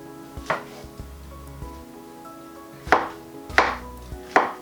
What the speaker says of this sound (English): so we've got the mushrooms here, so it's just going to slice those